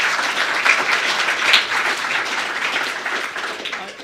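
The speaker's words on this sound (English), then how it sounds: "let's give a round of applause for all of our" Audience at a climate debate clapping in sustained applause, a dense crackle of many hands with small surges, continuing steadily throughout without pause.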